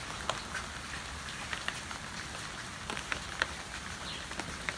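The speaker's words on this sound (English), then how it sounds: "you can see how much rain is coming down." Steady rain pours down outdoors beside a sidewalk, a dense wash of patter with scattered louder drips striking nearby surfaces, moderately loud and continuous with no talking.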